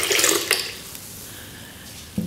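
Fresh coconut water is poured into a Vitamix blender, giving a brief splashing gush of liquid at the start that quickly fades to a quiet trickle, then a small clunk near the end.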